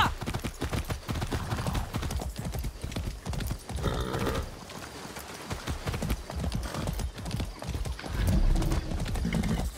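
Steady clip-clop of horse hooves in the video game Far Cry 6, with a horse whinnying partway through, loud and close, continuing throughout.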